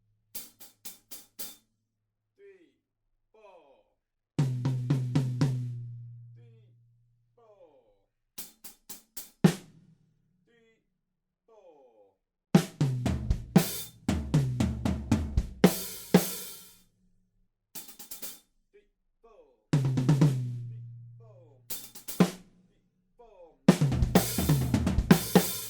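Short drum snippets from the bridge of a song: scattered bursts of kick, snare and cymbal hits separated by silent gaps, close and dry, with no talk.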